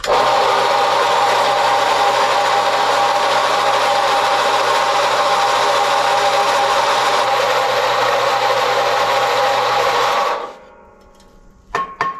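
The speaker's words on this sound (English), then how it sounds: "let's get this cut off with the bandsaw" A bandsaw cutting through a steel exhaust pipe for a turbo Honda Civic exhaust build, a loud steady whirring grind held for about ten seconds, then the blade winds down and a few light clanks follow.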